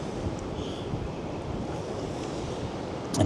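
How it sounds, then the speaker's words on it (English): Wind buffeting and grey sea waves washing at Cromer Pier, a steady close rush of gusty noise and surf with a sharper knock right at the end. "that wind's picking up a little bit more each hour"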